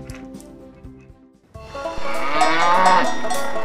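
A cow lets out a long, loud low moo after a few seconds of quieter tonal sounds, close by and rising in volume.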